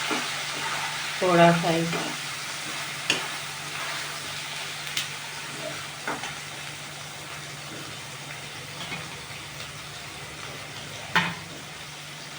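Chopped onions fry in a pan with a low, steady sizzle, punctuated by scattered clinks and scrapes of stirring; a voice speaks briefly near the start.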